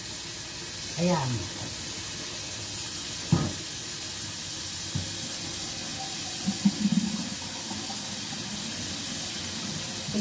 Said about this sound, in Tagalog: Lagyan natin ng malamig na tubig.